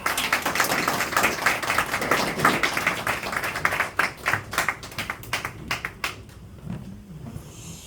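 Applause at a Korean party press conference, many hands clapping in a dense burst that thins into scattered separate claps and fades out near the end.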